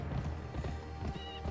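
Horse in the western video game Gun, rapid hoof clip-clop with a short whinny, fairly close and continuous under faint game ambience.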